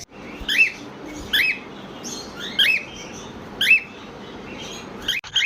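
Cockatiel chicks chirping in short, high bursts about every second, fairly close, over a soft steady background hiss.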